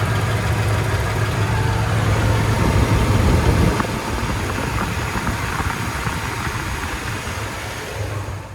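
The 5.7-litre V8 of a 2012 Toyota Tundra idles steadily up close, a dense, even mechanical hum and rumble with a slight shift in tone partway through and no voices.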